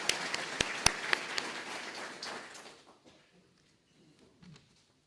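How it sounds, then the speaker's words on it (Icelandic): Audience applause at a university graduation ceremony, loud clapping with a few sharp claps standing out, fading over about three seconds into near quiet. "Gefum þeim endilega gott klapp."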